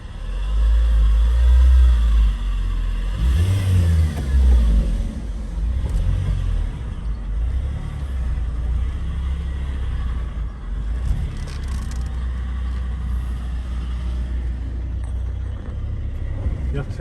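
A car engine rumbles low and steady while the vehicle slowly reverses, with a brief rev near the start; people talk over it throughout.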